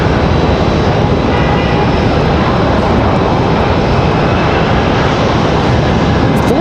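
A jet airliner roars loudly and steadily as it arrives at Raleigh-Durham International Airport, a dense continuous engine rumble close by with no talk over it.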